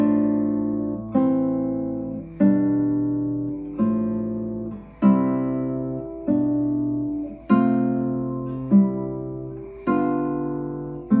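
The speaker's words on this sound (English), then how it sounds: "now I have the 4/3 and 6/5 suspensions together, and they sound like this" A series of sustained piano chords carrying 4/3 and 6/5 suspensions together, each struck cleanly about every 1.2 seconds and left to decay, with the suspended notes resolving between attacks.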